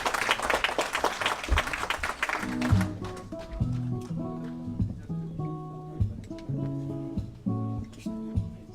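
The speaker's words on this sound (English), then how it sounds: "Can we have a big round of applause for him to say a few words," Audience applause at a sports club kit launch and gala dinner, dense clapping for about three seconds, then it gives way to music with heavy, steady tones.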